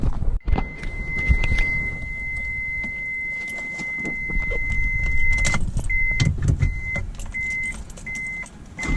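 A Mitsubishi Galant VR-4 turbo running E85 is cranked and started, with a door chime beeping repeatedly and keys jangling over a loud, close engine that catches and then settles into a rough idle.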